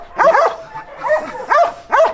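Village dog barking in Tekirdağ, four short, close barks in an uneven rhythm, loud and clear with no talk over them.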